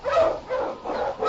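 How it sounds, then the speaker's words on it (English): An Eskimo lead sled dog barking as an old-time radio drama effect, three quick loud barks in a row, close and alone without talk. "The Wonder Dog King, swiftest and strongest of Eskimo lead dogs, blazes the trail through storm and snow for Sergeant Preston"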